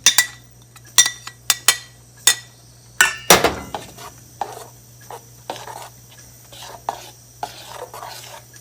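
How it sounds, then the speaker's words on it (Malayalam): A spoon stirs a ground coconut paste and curd mixture for an apple kichadi in a bowl, making sharp clinks and scrapes against the sides. The strikes come in an irregular series and are loud and close, with no talk. "നമ്മൾ പ്രിപ്പയർ ചെയ്ത് വെച്ച തൈരിൻ്റെ കൂട്ടും കൂടെ ആഡ് ചെയ്ത് നന്നായിട്ട് മിക്സ് ചെയ്യാം"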